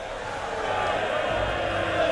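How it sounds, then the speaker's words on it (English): A crowd of village slingers cheers in Rome Total War II, a broad, distant rumble of many voices that swells gradually and stays steady, with indistinct shouting blended into the mass. "Slingers in the village are cheering"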